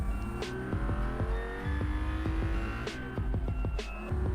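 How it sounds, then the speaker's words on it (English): A high-revving twin-turbo V12 engine in a video game roars close up, pitch climbing and dropping through repeated gear shifts, with brief whooshing turbo bursts between changes. "Nothing defeats the sound of a V12. Hearing the turbo spool."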